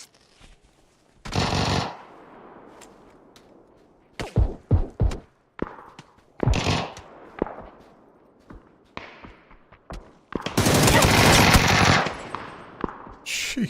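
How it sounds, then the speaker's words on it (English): Bursts of PUBG machine gun fire, short sharp volleys separated by silence, some close and loud, ending in a longer sustained burst. "What is that guy shooting at too?"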